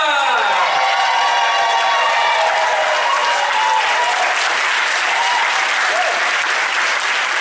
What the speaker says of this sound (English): Put your hands together, start with the start cheer, Nelson Gombakomba!